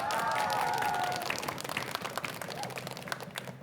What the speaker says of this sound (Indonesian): kita berikan tepuk tangan kembali untuk Regu A